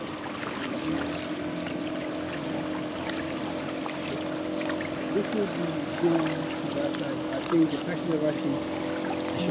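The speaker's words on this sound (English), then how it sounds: "I might get off this jetty in case this boat wants to pull up here." A boat engine rumbles steadily nearby as the boat approaches a jetty on the Volta River in Ghana, over lapping water and wind, with a few louder bumps and splashes toward the end.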